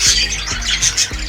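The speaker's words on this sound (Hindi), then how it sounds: "अरे ओ मूर्ख पक्षी, क्यों कर रहे हो परेशान?" Bird squawks repeatedly, loud and close, in a harsh rhythmic series of about three calls over a steady low hum.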